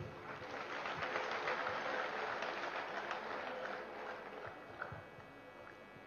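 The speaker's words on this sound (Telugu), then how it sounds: "యాంకర్ గారు చప్పట్లు కొడతాం." Sustained applause from an audience at a Dhyanamahayagnam meditation gathering in Tirupati, a steady wash of many hands clapping for about six seconds, gradually thinning toward the end.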